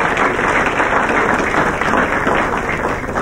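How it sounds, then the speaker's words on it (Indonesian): Studio audience at an Indonesian comedy show applauds on cue, a dense, steady wash of clapping holding loud and even for the whole span with no voices rising above it. "Oke, ya, tepuk tangan dulu."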